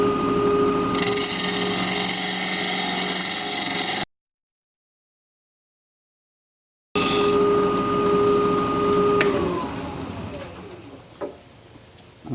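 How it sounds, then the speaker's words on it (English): A bowl gouge cuts a recess into desert oak spinning on a lathe, giving a steady scraping, rasping whir. It pauses to silence and then resumes, and the pitch falls as the lathe winds down at the end. "we'll switch to a standard grind bowl gouge and just create that"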